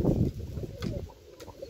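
Domestic pigeons of the Boz Dumanlı Susami breed cooing in a coop, soft low throaty murmurs repeating close by in a steady rolling burble.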